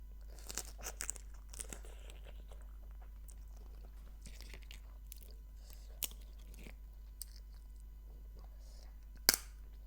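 Someone chews field crab meat from the shell, with soft, wet crunching and mouth sounds close up under a steady low hum.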